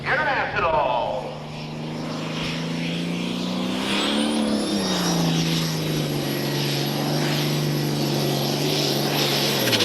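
A 466-cubic-inch International pulling tractor roars at full throttle during a truck and tractor pull event, a loud sustained engine drone with a rising whine under an announcer's voice.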